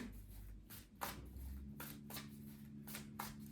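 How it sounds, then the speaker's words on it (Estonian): Tarot cards shuffled by hand in a quiet room, with several crisp riffling bursts spaced roughly half a second to a second apart and a soft low hum underneath. "Ma segan kaardid ära."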